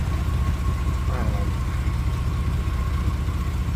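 A car engine idles steadily after an exhaust leak repair, a low rumbling drone with an even, pulsing rhythm that is close and continuous throughout.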